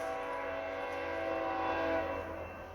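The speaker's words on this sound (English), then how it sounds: "Alright, train's kinda gone." A train passing nearby, a sustained rumbling roll with tonal whistle- or horn-like hums that holds steady and then fades slightly as it moves off.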